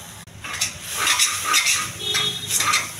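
A spoon stirring masala (chili powder, turmeric, salt) into cooked, cooled brown rice in a pot, with steady scraping and clinking of the utensil against the vessel; no talking.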